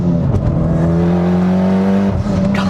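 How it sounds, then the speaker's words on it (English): Mitsubishi Lancer Evolution X, an all-wheel-drive turbocharged car of about 350 horsepower, pulling hard under acceleration with a loud, steady engine drone that rises in pitch, then a short break and a sharp burst of wastegate hiss at the end. "The wastegate noise is crazy."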